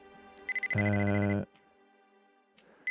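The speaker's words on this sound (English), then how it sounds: "Cell phone." A cell phone rings in the 1998 PlayStation game Mizzurna Falls, giving a loud electronic trill with a few short beeps before it and faint game sounds after.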